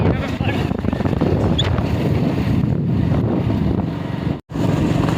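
Steady close engine drone with heavy wind buffeting from a motorbike ride through a village, continuous rumble broken by one brief dropout near the end.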